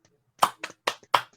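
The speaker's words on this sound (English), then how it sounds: "you get the actual stereo applause finally" Sparse applause from a small remote folk music audience, four separate clap-like bursts spaced through a short moment, fairly close and moderately loud with no talk.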